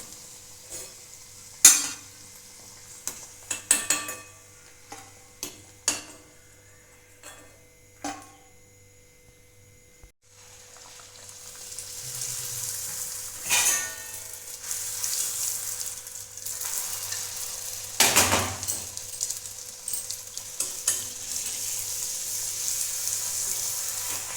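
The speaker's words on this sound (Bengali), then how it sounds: "একটু লাল লাল করে ভাজতে হবে" Puris frying for homemade golgappa: sharp scattered clinks and taps of utensils first, then a steady close hiss of oil bubbling for the second half, with occasional stirring knocks and no talk.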